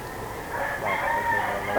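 A young stag rooster gives a single short crow, close and fairly loud, with a rising and falling call under faint background noise.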